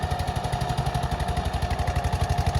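A Swaraj 855 tractor engine runs close by with a fast, even, throbbing diesel beat, steady and loud throughout.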